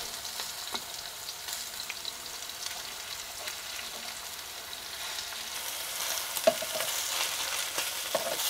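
Hamburger patties frying in a pan while cooking in a campervan, a continuous close sizzle with occasional scraping and small pops that swells slightly toward the end, no voices.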